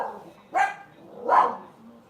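Dogs barking at the mailman, two separate sharp barks about a second apart, at moderate distance indoors over a quiet background.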